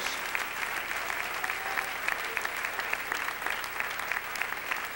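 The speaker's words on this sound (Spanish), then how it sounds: "Dele un aplauso al Señor con todo su corazón." A congregation claps during a church service. The applause is dense and sustained, a steady wash of many hands clapping together from start to finish.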